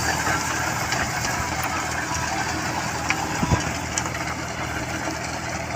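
A John Deere 5050D tractor engine runs steadily with a six-foot Green System RT 1026 rotavator attached, a continuous mid-low idling drone with a few brief louder knocks near the end.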